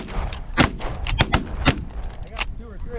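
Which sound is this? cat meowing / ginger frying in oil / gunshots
gunshots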